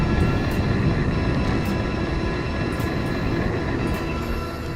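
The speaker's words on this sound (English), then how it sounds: "I am curious if this is a normal amount of road noise." Riding a Segway i2 produces a steady, dense rumble of road noise that stays loud and constant throughout, with no talking.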